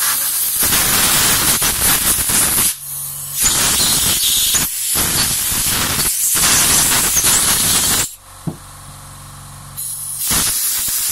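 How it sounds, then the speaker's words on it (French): Compressed air blow gun cleaning out a Yamaha XV 500 carburetor, loud close hissing bursts of several seconds each separated by short pauses, with faint clicks between blasts. "Bien souffler dans toutes les parties internes pour déboucher les canalisations du carburateur."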